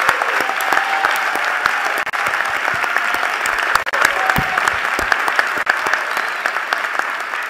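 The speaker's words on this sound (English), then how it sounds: "Please give him a round of applause." Sustained, dense audience applause fills a university presidential installation ceremony at Bowie State, a steady crowd of many hands clapping at close range for several seconds with no speech.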